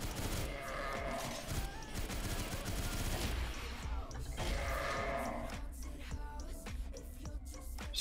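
Rapid bursts of AK-47 Golden Bull automatic fire from the video game CF West, dense and continuous with game effects layered over it, loud throughout.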